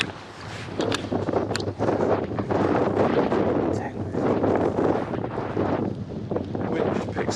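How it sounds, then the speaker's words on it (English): Strong wind buffets the microphone on the bank of the River Kennet during pike fishing, a steady loud roar of gusts with occasional knocks, continuing without pause. "The wind just picks up just as I go to cast"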